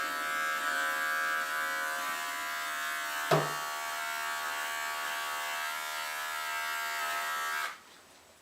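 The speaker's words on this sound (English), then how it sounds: "I try not to drag the clipper onto the skin, but just like a light touch" Electric clippers trimming a dog's fur during grooming buzz with a steady, fairly loud drone for about seven seconds, broken by one sharp brief knock partway through, then cut off at the end.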